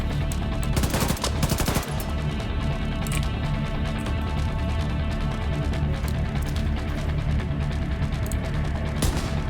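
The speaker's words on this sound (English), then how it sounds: "I didn't realize this thing that I have with the ACOG scope on is actually set for burst fire." A burst-fire rifle with an ACOG scope in The Division 2 cracks out a tight cluster of rapid shots early on. A steady mechanical game ambience hums beneath, with a few faint later pops and no talking.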